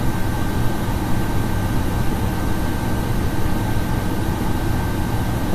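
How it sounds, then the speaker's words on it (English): A propeller plane that is about to crash is played as a sound effect: a dense, steady engine roar that never lets up, loud and close, with no voices. "The first one's like a propeller plane that's about to go down."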